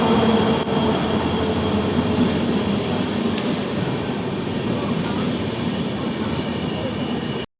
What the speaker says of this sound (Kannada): WDP4D ಜೊತೆ ಬರ್ತಿದೆ ಗಾಡಿ.